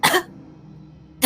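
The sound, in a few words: storyteller imitating a dying man's cough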